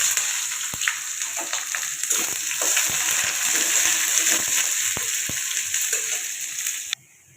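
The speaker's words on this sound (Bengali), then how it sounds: "আমাদের তেল গরম হয়ে গেছে, আমরা দিয়ে দিচ্ছি তেজপাতা, দিয়ে দিচ্ছি পেঁয়াজ।" Bay leaf and onion dropped into hot oil in a wok crackle and sizzle loudly and continuously with scattered pops, then cut off abruptly near the end.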